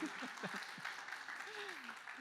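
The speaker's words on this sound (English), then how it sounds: "I worked this hard so that I could get claps from all of you in this room today" An audience claps in a lecture room at a climate talk about bats, giving a steady wash of applause throughout while a voice speaks faintly over it.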